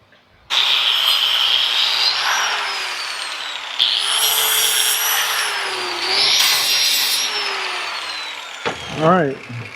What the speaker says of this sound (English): So we're gonna clean the ends up with the flap disc